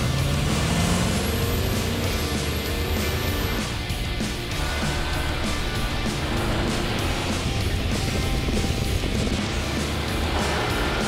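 Ford F-150 2.7 EcoBoost V6, Ram 1500 EcoDiesel and Silverado V8 pickups towing 7,000-pound trailers accelerating uphill at full throttle on Davis Dam Road, a loud steady engine drone with rising tones and no talk.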